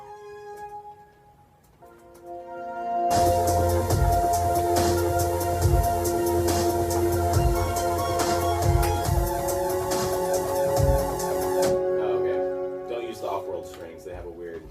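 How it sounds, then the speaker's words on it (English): A dubstep lead built on the It Happened One Night strings synth preset plays a sustained, layered melody, loud and alone, backed by a pounding low bass pulse, with a quieter sparse intro before it swells in. "now I use the It Happened One Night strings for the lead"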